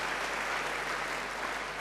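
A church congregation applauds during a sermon, a dense, steady wash of clapping from many hands that holds evenly for a couple of seconds with no voice on top.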